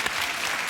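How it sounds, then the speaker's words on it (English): Bright, continuous clapping and cheering from a TV chat show studio audience, loud and close, filling the whole short moment without a break. "See, already they're whooping and cheering."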